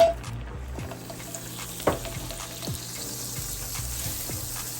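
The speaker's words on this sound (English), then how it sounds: "Add some olive oil. Half stick of butter." Half a stick of butter melting into olive oil in a pan for creamy shrimp and salmon pasta, making a moderate, steady sizzle with occasional sharper pops and faint clinks, close by and without talk.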